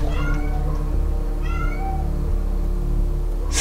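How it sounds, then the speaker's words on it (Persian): A cat meows several times in a rural village setting, with short rising cries near the start and middle over a steady low hum, and no voices. "صدا گربه هست؟"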